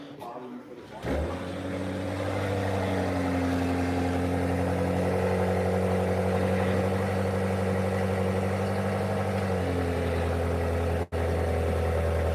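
A 2023 BMW 7 Series engine starts after about a second, then settles into a steady, smooth idle with a low hum that holds loud and even, with a slight shift in tone near the end.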